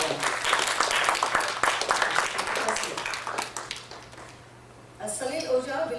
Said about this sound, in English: Let's give a big round of applause to our team Adam.